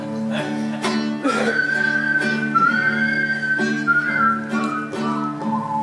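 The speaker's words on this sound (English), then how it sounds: "Here we go, whistle again." A person whistles a sliding, wavering melody over strummed guitar chords at a church music night, clear and close, with the tune rising and falling for several seconds.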